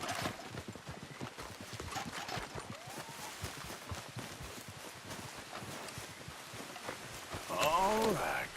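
A horse's hooves clip-clop in a steady trotting rhythm in the video game Red Dead Redemption 2, continuous throughout, with a brief whinny near the end.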